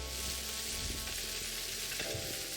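Steady, close sizzling of food frying in a pan, a dense crackling hiss throughout with no voices.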